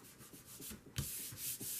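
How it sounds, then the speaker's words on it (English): A fingertip rubs Fabri-Tac craft glue off a surface, a soft dry scuffing that repeats in short strokes, close and quiet, with no talking. "Just rub it with your finger."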